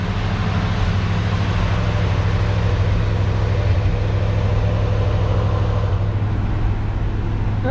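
A 1966 Ford Galaxie, built on the Mahwah, New Jersey assembly line, idles after warming up, giving a steady, even, low rumble that stays close and unbroken with no voices.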